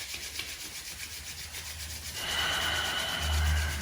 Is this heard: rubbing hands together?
yes